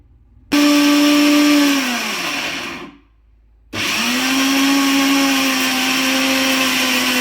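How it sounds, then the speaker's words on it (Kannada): A mixer grinder grinding batter smooth, a loud high whine that runs, winds down and stops for a moment, then starts up again and keeps running steadily. "ಇಷ್ಟೇ ಹಾಕ್ಕೊಂಡು ನಾನು ಇದನ್ನು ನೈಸಾಗಿ ರುಬ್ಕೊಂಡ್ಬಿಡ್ತೀನಿ"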